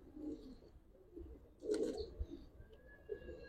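Giribaz pigeons coo softly in a loft, a low murmuring burble that swells briefly in the middle, with faint chirps and distant background noise around it.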